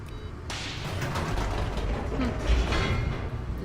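An elevator in The Stanley Parable video game starts up with a thump, then hums and creaks in a continuous mechanical rumble as it moves, with faint clanks along the way.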